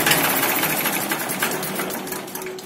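A 1987 Massey Ferguson 35 tractor engine idles with a steady, fast mechanical clatter, close and loud, holding an even rhythm throughout without any talk.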